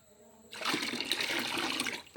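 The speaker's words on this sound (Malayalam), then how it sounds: "ഇതേപോലെ കലക്കിയിട്ട് നമുക്കില്ലെങ്കിൽ ഇതിനകത്ത് നിറച്ചും വെള്ളം ഒഴിക്കണം" Water gushes steadily into a container holding leftover dosa batter, a loud continuous splashing pour that starts suddenly and runs for about a second and a half.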